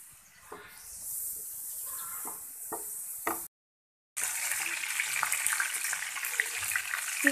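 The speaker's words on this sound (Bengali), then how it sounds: "চিকেন ভেজে নিচ্ছি।" Chicken fries in a pan for a chicken roast, giving a steady, fairly quiet hissing sizzle broken by a short silent gap, with light clinks and stirring sounds.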